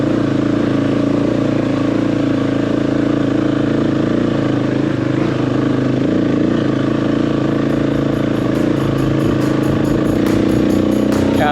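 A motorcycle engine drones steadily under load while climbing a hill on a road toward the El Salvador border, loud and continuous with a constant low hum.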